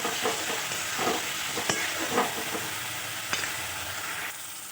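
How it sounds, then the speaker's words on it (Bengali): Potatoes frying in oil for a kofta curry are stirred in the pan, a continuous close sizzle with scraping strokes and a few sharp clinks of the spoon, no talking. "আলুগুলো দিয়ে দিচ্ছি, তো নাড়াচাড়া করে নেবো কিছুক্ষণ"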